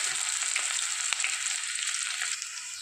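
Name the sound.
garlic frying in oil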